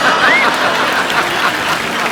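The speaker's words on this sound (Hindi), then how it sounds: "अच्छा, तालियां" A burst of applause from a TV comedy show studio audience, continuous clapping filling the whole moment with a brief whistle-like tone near the start.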